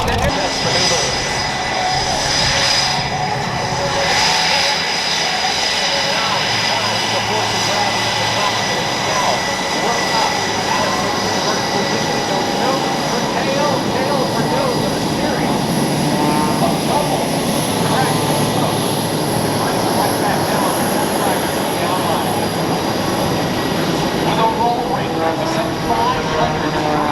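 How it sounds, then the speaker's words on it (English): Engine of an MXS aerobatic airplane performing at an air show at MacDill Air Force Base, a loud, steady drone filling the whole stretch with a public-address announcer talking over it. "MXS, the only aircraft capable of meeting Rob's extreme years"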